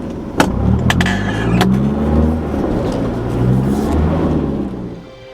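Four-wheel-drive vehicle grinding up a steep track on Blue Rag Range toward Mount Blue Rag in first low gear, its engine a steady labouring drone with a few sharp clunks and rattles near the start.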